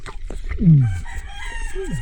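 A rooster crows nearby, a loud descending call, with faint clucking and scattered farmyard noises around it.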